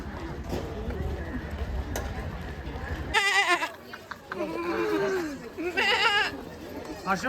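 A goat bleats several times in shaky, wavering calls, with people talking nearby and some background clatter.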